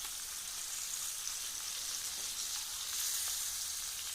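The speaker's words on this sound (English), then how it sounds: "Oh, that sizzling noise." Fish frying in a hot pan, giving a steady, close, continuous sizzle with crackling spits throughout and no talk.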